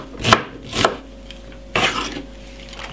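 A knife chops spring onion and white onion on a board, making three sharp, close chops: two in quick succession, then a third after a pause. No one speaks.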